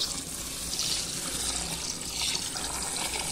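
Raw rice being washed in water before frying it for fried rice, a continuous close splashing and running-water rush that holds steady throughout with no talking.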